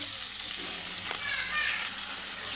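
Onions frying lightly in a pan for beaten rice upma give a soft, continuous hiss and sizzle, close and steady for a couple of seconds.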